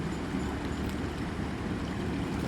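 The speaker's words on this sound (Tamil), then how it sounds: "கோயிலுக்கு முன்னாடிலாம் தண்ணி அடித்து ஓடுது" Floodwater in the Chitraru river near Tirunelveli surges past a temple front and a new bridge, a steady, dense roar of churning current filling the whole clip with no voices.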